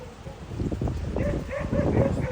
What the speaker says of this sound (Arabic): صوت الكلاب ده مرعب